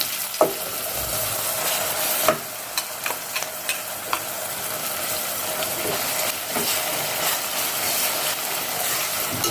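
Steady, fairly loud sizzling of a thick spice masala paste frying in oil in a pan, broken by sharp scraping and tapping from a spoon stirring it.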